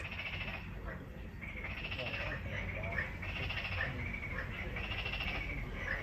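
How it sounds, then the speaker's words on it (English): A chorus of frogs trills and croaks continuously in rhythmic pulses, steady and moderately distant, with faint ambient noise. "The frogs are really singing around here."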